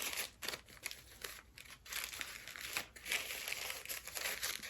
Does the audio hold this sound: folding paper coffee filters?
yes